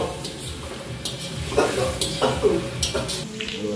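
Shrimp masala sizzles in a pan while a spoon scrapes and stirs it, with intermittent clinks against the metal. Voices talk faintly in the background of the frying.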